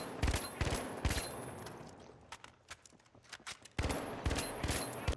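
Rapid gunfire from a low-recoil gun in the video game The Finals, loud bursts of shots at the start and again near the end, with a quieter stretch of scattered single shots and footsteps between.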